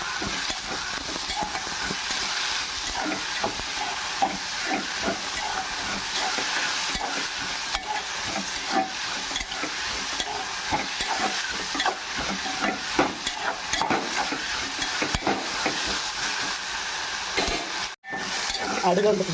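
Onions fry with turmeric and salt in a pan for hotel-style poori curry, a loud, continuous sizzling hiss broken by repeated scraping stirs of a utensil, close up and steady for nearly twenty seconds.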